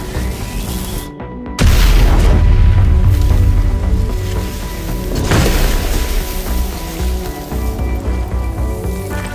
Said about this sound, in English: a fire pump controller designed to NFPA 20 standards, experiencing a real 14-calorie arc flash